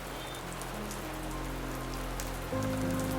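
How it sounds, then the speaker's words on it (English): Steady rain falls on a foggy mountain along the Pacific Crest Trail in a constant, even hiss, with no voices. "It started raining."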